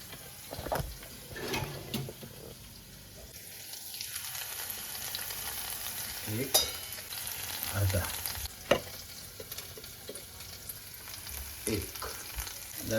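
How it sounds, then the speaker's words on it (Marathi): Masala of red chilli powder and spices frying in oil in a pan, a steady close sizzle with scattered stirring scrapes and occasional sharper clinks, no talk. "आता ना हा मसाला मस्त फ्राय होऊ द्यायचा हा तेल सोडेल मसाला"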